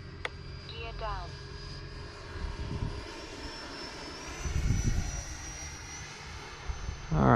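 An FMS Rafale 80mm RC jet with landing gear down roars steadily on its maiden flight, with a high turbine whine and surging engine noise, while people talk nearby.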